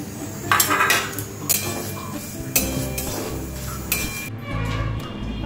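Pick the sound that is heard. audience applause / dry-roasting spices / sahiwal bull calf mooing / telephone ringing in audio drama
dry-roasting spices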